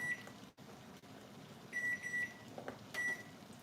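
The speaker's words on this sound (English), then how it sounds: "Let me set this timer." Several short, clear electronic beeps from a kitchen timer being set while jam cooks, coming in small groups at a steady pitch over quiet room background with no talk.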